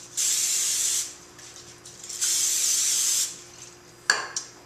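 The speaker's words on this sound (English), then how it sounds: "I'm going to just take some non-stick cooking spray" Non-stick cooking spray is misted over whole wheat tortillas in a kitchen, with two hissing sprays of about a second each, followed by a faint clink of a can or dish near the end.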